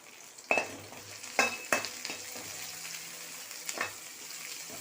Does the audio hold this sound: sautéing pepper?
yes